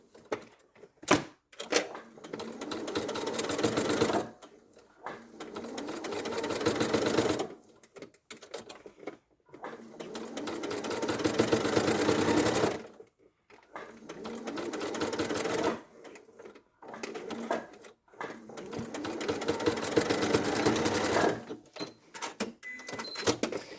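A sewing machine stitches around the foot of a teddy bear leg in loud, close runs of rapid mechanical whirring. The runs last several seconds each and are separated by short pauses.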